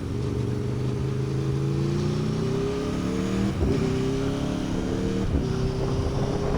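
A Porsche 911 sports car with an aero package passes nearby on the road, its engine note droning and shifting in pitch over a constant rush of wind and road noise.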